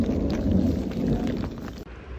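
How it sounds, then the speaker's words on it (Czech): Rain falls outdoors beside a highway on a walking journey, a dense steady patter with a low rumbling wash underneath, fairly loud and continuous, no voices. "Přestává trošku pršet,"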